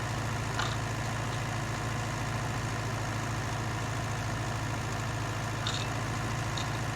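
A County 754 tractor labours uphill pulling a Massey Ferguson plough, its engine a steady, dense low drone holding constant throughout with no voices.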